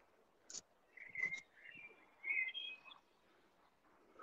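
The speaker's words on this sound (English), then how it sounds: "You can hear the bird." A bird sings outdoors, giving several short, faint chirps and warbled phrases in brief bursts over a quiet background, with no voices.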